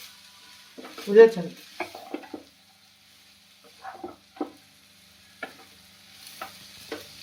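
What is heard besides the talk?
Maggi noodles frying and being stirred in a pan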